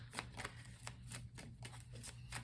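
Tarot cards are shuffled steadily for a reading, giving soft, rhythmic riffles and snaps close by over a low hum, with no voices.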